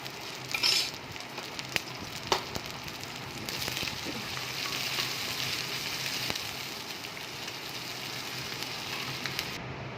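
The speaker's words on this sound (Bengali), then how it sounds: "এবার বেরেস্তাগুলো আমি ভেজে নেব।" Onions frying in oil in a kadai for biryani beresta, a steady close sizzle with occasional stirring clatters and a couple of brief louder bursts near the start.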